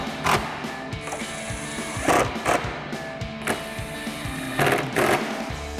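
A ratchet tightens headlight bolts on a 2005-2013 Corvette during a Morimoto LED headlight install, making a few short bursts of clicking ratchet action spaced a second or so apart, close and moderately loud.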